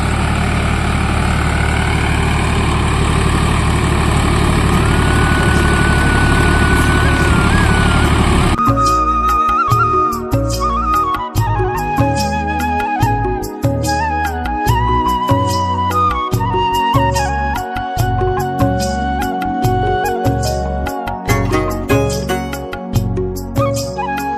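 A tractor ploughing a field in low 4th gear at about 1600 RPM, heard up close: a steady drone at first, then a loud, rough, pulsing engine rumble that continues under load.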